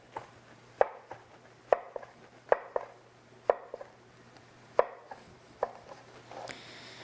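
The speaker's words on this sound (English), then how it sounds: "So what we want to do is julienne it." Knife chopping a vegetable into julienne strips on a cutting board, about a dozen sharp distinct cuts in an uneven rhythm, close and clear over a quiet background with a low hum and no speech.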